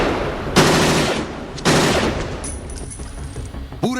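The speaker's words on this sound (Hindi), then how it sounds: "फिर दनादन फायरिंग शुरू हो जाती है।" Rapid gunfire from CCTV footage of an attack on a convoy of white cars by masked men who arrived on a motorbike, two loud dense bursts of shots followed by a quieter ringing tail and a brief voice at the end.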